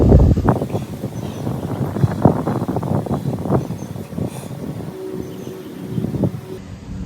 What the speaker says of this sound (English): We'll try to block the wind though.